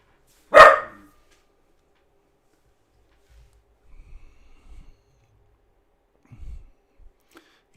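A three-year-old long-haired dachshund gives a single sharp, close bark at a microphone indoors, followed by near silence with faint soft rustles and snuffles.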